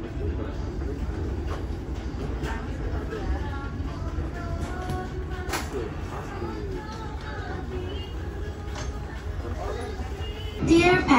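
Interior rumble of the Pandanwangi local train in the Jember area of East Java, a steady low drone with faint rattles throughout, heard from inside a carriage under continuous talk and a brief louder jolt near the end.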